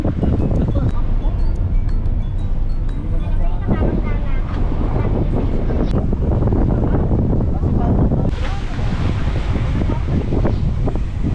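Strong wind buffets the microphone continuously with a loud roar, while people talk over it and water sloshes nearby.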